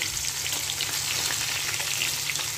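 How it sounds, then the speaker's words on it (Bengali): Katla fish frying in a pan makes a loud, continuous close sizzle of spattering oil, steady throughout with no voices. "এখানে কাতলা মাছ ভেজে নিচ্ছি"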